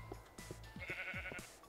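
A sheep in Minecraft bleats in a few short, wavering calls, fairly faint and close, with no voices.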